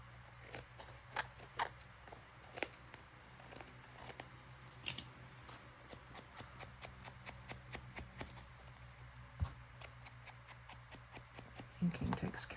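Scissors trim a paper journal card cut from a 6x6 paper pad cover page, a steady run of quiet, close snips and crisp paper rustles at a soft level.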